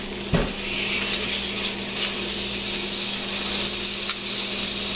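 Roast beef sears loudly in a hot pan, a dense continuous sizzle with a sharp burst near the start as the meat is moved.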